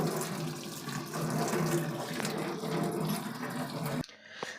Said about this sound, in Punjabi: ਠੰਡਾ ਪਾਣੀ ਆਪਾਂ ਨੇ ਨਿਊਡਲਾਂ ਦੇ ਉੱਪਰ ਮਾਰ ਲਿਆ